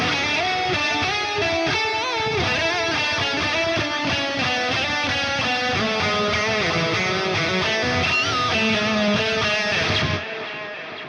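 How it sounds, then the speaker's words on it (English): Sterling Majesty electric guitar with its selector on the middle position, both pickups together, plays a fast, continuous, dense lead line with sustained notes, loud and close, then cuts off abruptly near the end. "move it over to the middle pickup position, which is both pickups at the same time."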